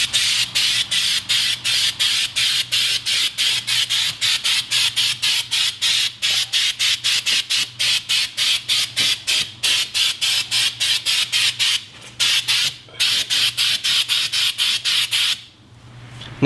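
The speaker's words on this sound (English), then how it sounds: "Give the can a shake, and whenever you're ready, start spraying all this down." An aerosol spray paint can sprays in a long run of short, rhythmic hissing bursts, close and loud, with a couple of brief pauses and a final longer stop.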